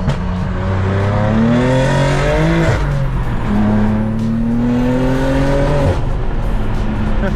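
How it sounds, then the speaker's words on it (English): A BMW M2 engine revs hard close by, its pitch climbing and falling through gears with rising whines, a sharp drop, and crackling exhaust pops between pulls. "This car sounds sick"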